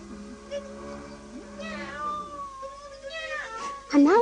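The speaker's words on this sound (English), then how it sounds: "Mim's become a furious cat." A furious cat yowls and meows in a radio drama, several drawn-out, rising cries over about four seconds. The last is the loudest and sharpest, and a voice is faintly heard beneath.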